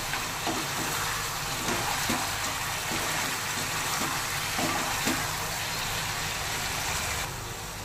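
Fried potatoes being stirred into chilli potato sauce in a pan, with a steady close sizzle and regular scraping stir strokes throughout.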